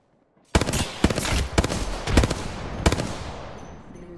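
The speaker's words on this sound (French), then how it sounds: "They're shooting at me." Heavy automatic gunfire erupts in a shooter video game after a brief silence, a loud sustained burst punctuated by sharp cracks, then trailing off with echoing decay.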